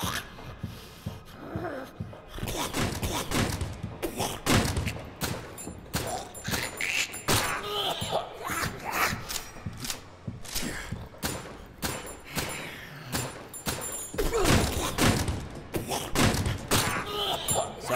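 Shooting during a boss fight in the video game My Friendly Neighborhood, a string of sharp, irregular shots and thuds, each one close and loud, crowding together over a steady noisy backdrop.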